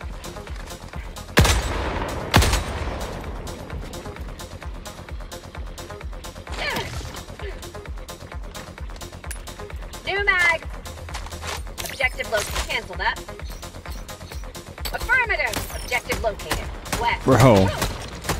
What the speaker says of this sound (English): Shoot it with the Kossar.